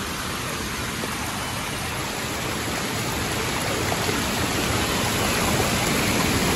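Water flows steadily and loudly down a stream in a scenic spot near a bird's nest, a dense, continuous rushing wash with no pauses.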